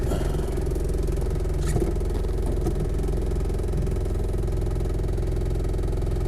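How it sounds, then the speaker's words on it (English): Rear side windows of a Land Rover Defender 110 CSW 200Tdi rattle lightly while driving, a faint irregular clatter riding over the steady drone of the engine. "It's the rear side windows rattling a bit."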